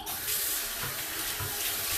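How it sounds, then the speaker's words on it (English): Water runs steadily from a bathroom sink faucet in a full, even hiss after the sink filter was cleaned, close and alone without any voices. "That's how the water should run."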